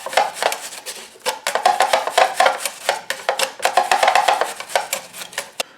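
A knife slices through a white onion on a cutting board for an eegees-style deluxe grinder, with steady repeated crisp cuts and taps close up, no talking.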